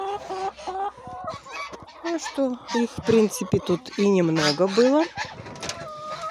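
Young hens cluck and squawk in a chicken coop, with repeated bursts of close, rising clucking calls, while someone talks over them.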